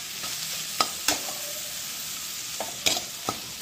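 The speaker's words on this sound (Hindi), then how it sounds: "इसे हम मिक्स करेंगे।" Lemon juice and spices such as black salt and dry mango powder being stirred into frying green chilli masala, a steady sizzle broken by several sharp spoon scrapes and clinks against the pan, close and alone.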